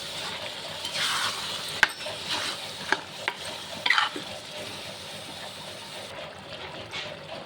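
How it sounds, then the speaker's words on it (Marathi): Chickpeas (kabuli chana) stirred into a pan of cooked spice masala for chole: soft continuous sizzling with scraping and stirring, and a few sharp clinks of the spoon against the pan. "आता हे छोले, काबली चणे हे मी याच्यामध्ये टाकणार आहे. हे पण एकजीव करायचं आहे."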